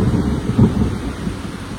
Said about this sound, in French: C'est trop grave comment l'orage il gronde de fou.